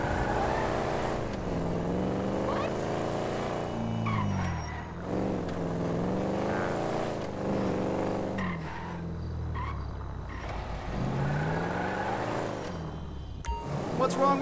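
A sports car drives through GTA V, its engine droning and rising in repeated surges of revving as it speeds up and eases off, loud and steady for the whole stretch.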